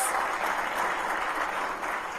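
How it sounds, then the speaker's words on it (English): Audience applause at a Greater Washington Hispanic Chamber of Commerce event, a steady dense wash of clapping at moderate level throughout, with no talk over it. "Give her a big round of applause"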